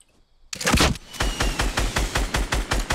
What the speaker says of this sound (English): I'm gonna rocket him.